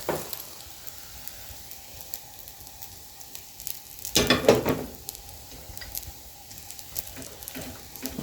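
A spring onion and carrot pancake fries in oil in a pan with a steady, soft sizzle, broken by a brief loud burst of crackling spatter midway when the pancake is flipped.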